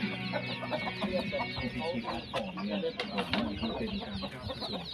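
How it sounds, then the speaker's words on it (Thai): Chickens and chicks cluck busily together at an evening feeding on a rural farm, with a steady chorus of clucks and chirps close by and some voices in the background. "ให้อาหารไก่ตอนเย็นนะ"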